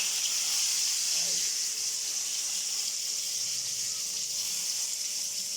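Whole fish sizzling in hot oil, a steady bright hiss that stays even from start to finish with no breaks.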